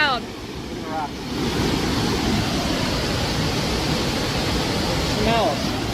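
Loud river water rushes steadily near a drain, a dense continuous roar heard from above, with brief voices over it at the start and the end.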